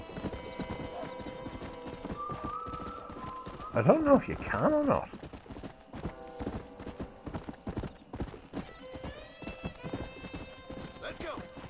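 Horse hooves clip-clop steadily in Red Dead Redemption, joined by a brief whinny and some bird calls, while someone talks over the trotting.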